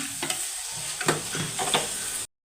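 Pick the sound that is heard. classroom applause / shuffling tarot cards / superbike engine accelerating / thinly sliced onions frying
thinly sliced onions frying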